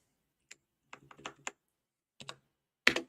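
Computer keyboard keys and mouse buttons clicking in short, separate bursts, a lone click followed by a quick run of taps, a pause, then two more and a final sharp click, close and alone in a quiet room.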